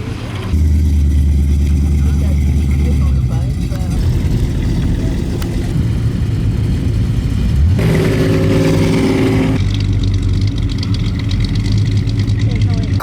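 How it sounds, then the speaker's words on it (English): A twin-cam car engine rumbles past at a Mopar car show, a steady low drone that swells briefly as it goes by, with voices and crowd noise around it. "Coming past is the V2 twin cam over there."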